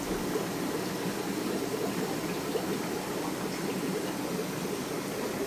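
Water running steadily through an aquarium water line on drilled tanks, a constant soft rushing trickle with no talking.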